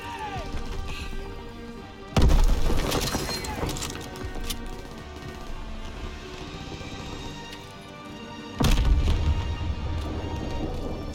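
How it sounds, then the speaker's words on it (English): Two sharp, heavy grenade blasts in Call of Duty WW2 during the D-Day landing, each a sudden loud crack with a crunching, debris-like tail, spaced several seconds apart over constant battle ambience. "Lob it a grenade!"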